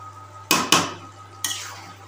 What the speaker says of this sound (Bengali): এবার মাখানো।